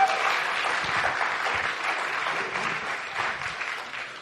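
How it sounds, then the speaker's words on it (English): Applause for the teaching assistants in a computer science lecture hall, a short burst of steady, moderately loud clapping from a class of students that gradually tapers off. "Let's clap for the TAs."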